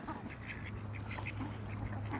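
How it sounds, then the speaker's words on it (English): Ducks quack nearby outdoors during a breakfast in nature, a few short quacks in loose bursts over a low steady hum, fairly faint overall. "Look how close the ducks got."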